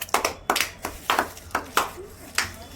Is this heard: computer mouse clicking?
no